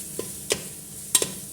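Ginger garlic paste frying in a pan while a spatula stirs it, a soft background sizzle broken by several sharp, close scraping strokes at irregular intervals.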